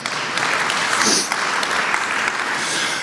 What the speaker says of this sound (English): you can applaud for that, those of you who know that